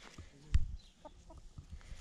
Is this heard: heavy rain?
no